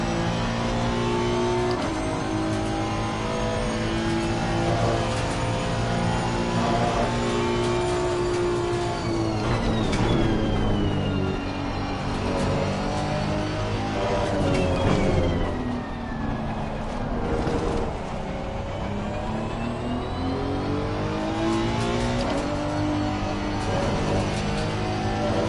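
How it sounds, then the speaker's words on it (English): A Bentley GT3 race car screams around Monza in Assetto Corsa Competizione, its engine note climbing and dropping through repeated gear changes and braking zones, loud and continuous with no talking. "Running the Bentley shorty at Monza."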